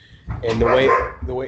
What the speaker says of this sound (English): excuse my dog there, I don't know if you heard him